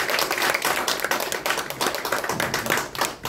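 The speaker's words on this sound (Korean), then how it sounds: "박수 한번 주시기 바랍니다." Audience applause greets a candidate at a political party press conference announcing a run for office, dense close clapping that carries on steadily before briefly dipping near the end.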